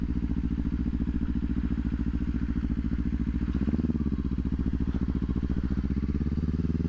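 Motorcycle engine running close with a rapid steady thump, briefly rising in pitch around the middle as the throttle is opened, then settling back.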